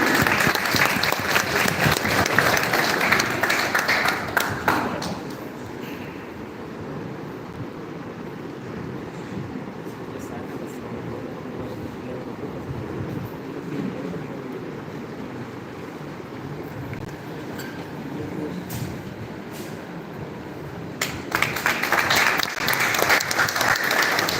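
An audience at a corporate felicitation event bursts into applause, loud clapping at the start that drops to a quieter, hall-filling murmur in the middle before swelling back into a strong round at the end.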